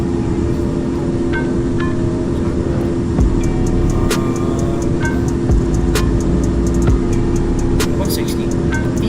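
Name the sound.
Boeing 737-700 jet taking off, from a flight simulator video game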